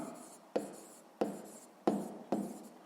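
A pen writes on paper during a sixth-grade math exercise, giving four quiet, evenly spaced scratchy strokes, each starting with a sharp tap and fading into a soft scrape, close and alone.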